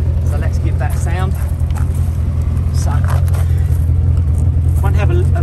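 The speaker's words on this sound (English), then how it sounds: "So it has got a nice performance exhaust on her." A 1989 Corvette C4 convertible with a 5.7 V8 and automatic gearbox idles through a performance exhaust, a steady deep rumble running throughout while someone talks over it.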